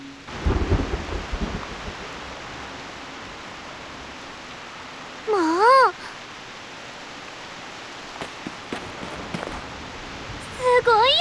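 Heavy rain with thunder in the game Reverse: 1999: a steady hiss of downpour with a low rumble near the start, while a character speaks briefly over it and a wavering tone sounds twice.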